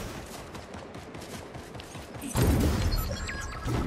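Gunfire in a Fortnite Chapter 5 zero build match crackles in rapid bursts. A loud, close volley suddenly erupts midway, and another surge follows near the end.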